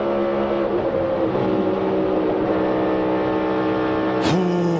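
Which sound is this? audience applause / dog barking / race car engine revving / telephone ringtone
race car engine revving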